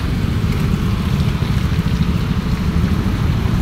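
Steady rain falls outdoors while someone walks home, a dense, continuous hiss close by with no talking.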